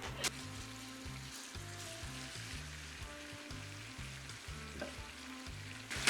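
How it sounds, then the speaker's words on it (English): Oxtail pieces for Jamaican curry oxtail fry in oil in a pot, giving a soft continuous sizzle with faint crackles, fairly quiet and close, beneath a low rhythmic pulsing background hum, with no voices. "We're gonna let the oxtail pieces fry up into the oil for 15 minutes."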